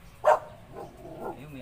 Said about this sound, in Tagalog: Ayun, may aso.